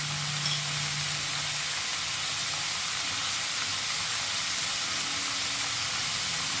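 Ash gourd cooking in a pan with salt added, giving a loud, continuous hissing sizzle, steam-like and steady throughout, with no speech.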